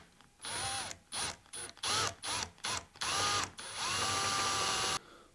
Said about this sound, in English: So we're gonna have to drill it out.